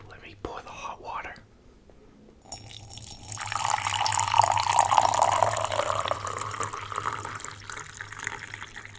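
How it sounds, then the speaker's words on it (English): Hot water poured into a vessel near the microphone after a quiet start, a steady close-up splashing trickle lasting several seconds that slowly fades, with soft whispered speech at the beginning. "pour the hot water."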